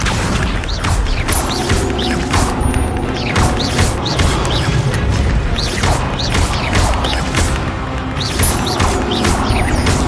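Spell-casting combat in Hogwarts Legacy: a loud, continuous stream of magical whooshes, impacts, crashes and booms, layered with shimmering effects and rapid repeated strikes, with no pause throughout.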